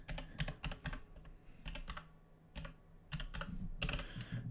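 Typing on a computer keyboard while entering login details on a CentOS machine: quiet, close bursts of rapid key clicks separated by brief pauses.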